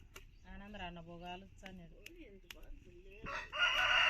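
A rooster crows nearby in a drawn-out call amid quiet outdoor sounds, followed by a brief rush of noise at the end; no clear talk.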